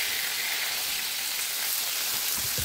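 Onions sizzle in hot cooking oil in a pan, a steady bright hiss of frying with small crackles near the end, close and moderately quiet, with no talking.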